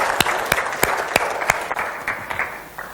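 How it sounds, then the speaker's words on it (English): A boot camp audience bursts into loud, close applause with sharp individual claps standing out over a dense wash, gradually thinning out over three seconds. "Big round of applause."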